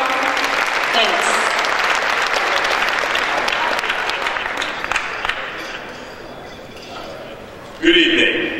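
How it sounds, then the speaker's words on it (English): Audience applause at a live gospel performance at the Georgia Legislature, a dense steady clapping crowd that fades gradually, then a brief louder burst of cheering and voices near the end. "So let us give them a hearty round of applause."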